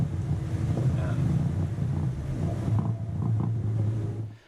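Steady low engine drone and rushing water with wind buffeting the microphone as a catamaran moves along, continuous and close.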